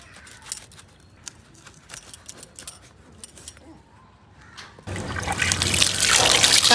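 Young jackfruit pieces being washed in water: light clinks and drips at first, then a loud, steady rush of running water and splashing for the last couple of seconds, close by and without talk.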